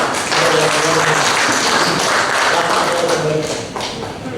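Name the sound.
audience applause at a meeting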